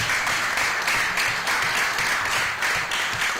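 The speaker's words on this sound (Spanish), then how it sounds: "dale un aplauso a Georgie" Audience applause at a community gathering at Casa Pueblo in Adjuntas, Puerto Rico, a steady mass of clapping hands with slight pulsing swells throughout.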